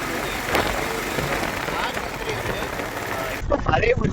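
A motorbike ridden in the rain by a rider without a helmet gives a steady, loud rush of wind and road noise, with a brief gust near the end.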